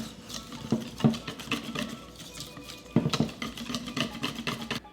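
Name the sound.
whisking coconut shrimp batter in a bowl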